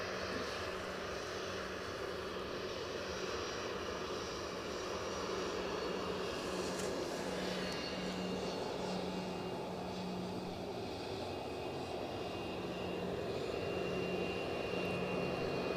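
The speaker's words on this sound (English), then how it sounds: "So the Loganair in shot is off to Southampton." A Loganair airliner departing Edinburgh Airport for Southampton, its engines producing a steady, continuous roar that holds at a fairly even level for the whole stretch, with no voices.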